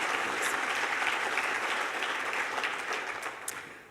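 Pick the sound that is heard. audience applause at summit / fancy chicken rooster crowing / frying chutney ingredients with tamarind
audience applause at summit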